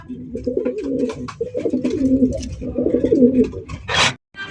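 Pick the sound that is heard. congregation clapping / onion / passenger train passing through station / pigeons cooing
pigeons cooing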